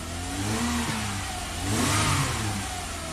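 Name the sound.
1994 Lexus ES300 engine revving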